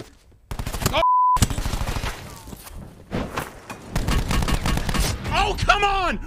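ICR rifle gunfire in a Call of Duty match: rapid bursts of close, sharp gunshots alongside footsteps and other game effects, with a voice talking over parts of the action.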